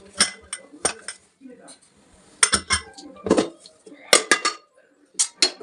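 A metal pressure cooker is opened after cooling, with a series of sharp metallic clanks and clinks from the lid and pot, spaced irregularly and fairly close.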